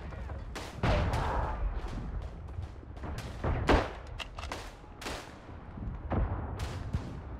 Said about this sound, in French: il y a une grenade qui vient de tomber